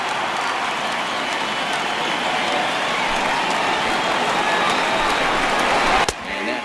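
A baseball video game stadium crowd of over 39,000 on their feet, cheering in a steady, dense roar at an afternoon game, loud and continuous, cut short by a sharp click near the end.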